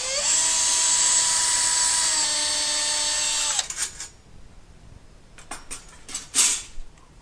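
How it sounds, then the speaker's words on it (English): A power drill fitted with a 1/4-inch bit bores holes into a wall for drywall anchors, giving a steady high whine for a few seconds that then winds down, followed by a few short bursts and knocks. "We use the 1/4-inch drill bit to drill the holes that we marked previously."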